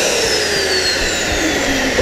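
An electric balloon inflator runs with a loud, steady whooshing motor roar, close and unbroken for the whole stretch.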